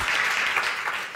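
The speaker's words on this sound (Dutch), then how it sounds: "Valentijn, applaus." Warm, steady applause from an audience welcoming a guest named Valentijn at a talk, a continuous full crowd clapping at close range throughout.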